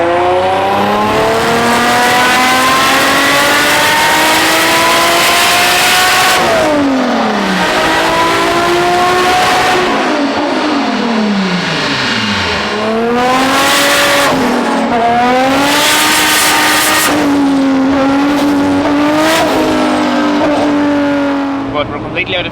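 A 2JZ-engined Lamborghini on a dyno screams at full power, loud and close, with repeated climbing revs that hold high, drop and surge again.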